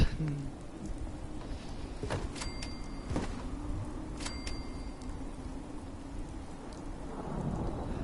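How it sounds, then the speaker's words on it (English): Rain falls steadily throughout a Fallout 4 game scene, with a couple of sharp thunder cracks near the start and midway, all at an even, moderate level with no talking. "Now before we get rained out."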